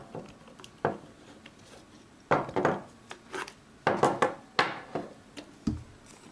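Gun gearbox being taken apart, grip and gearbox screws worked loose with small scraping, clicking and knocking handling sounds, close and quiet in irregular bursts.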